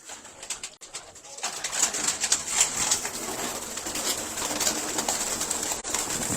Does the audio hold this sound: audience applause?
no